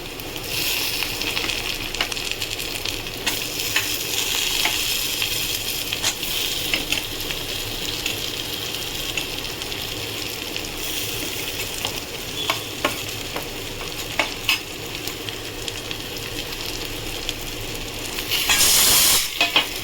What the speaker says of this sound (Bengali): ভাজা আলুগুলো দিয়ে দিই, ভালো করে একটু ভেজে দেবো।